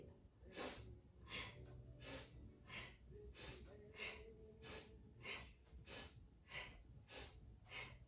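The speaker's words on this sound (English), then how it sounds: "Powerfully and audibly through the nose, begin to breathe" Forceful breathing through the nose during yoga, a fast, even train of sharp puffs repeating about twice a second, faint and steady throughout, with no voice.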